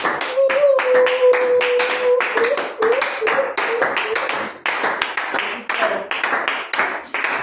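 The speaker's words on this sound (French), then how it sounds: "Applaudissons d'avance pour le Seigneur Jésus" A congregation at a church service claps steadily and densely for the Lord Jesus, the many hands blending into a continuous loud patter, with a sustained sung or spoken tone running underneath.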